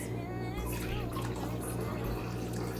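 Water is poured into a cup for an apple cider vinegar drink with lime and half a lemon, a steady close splashing fill running the whole time under a person talking.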